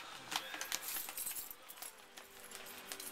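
A bunch of keys jangles and clinks in quick irregular bursts, fairly close, while someone handles them near handcuffed people; no one speaks.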